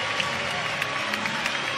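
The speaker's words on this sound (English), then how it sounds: "You heard the reaction from the crowd." Crowd at a college gymnastics meet between Auburn and Kentucky reacting to a beam dismount, a brief sustained swell of cheering and applause from many people in an arena.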